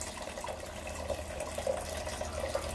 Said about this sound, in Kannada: ಸ್ವಲ್ಪ ನೀರು ಹಾಕಿಬಿಟ್ಟು ನೀರು ಹಾಕೊಳ್ಳೋಣಂತೆ